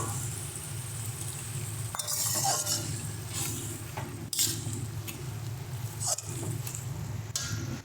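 Fried lentil dumplings being stirred into spinach curry in a pan, with soft sizzling under intermittent scrapes and clinks of a spoon against the metal, close and with no talking.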